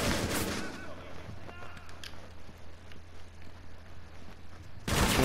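Gunshots in the tactical shooter Rainbow Six Siege, one loud burst at the start and another at the end, with faint distant shots and low game ambience between them.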